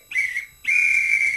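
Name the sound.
tournament director's whistle blow starting the match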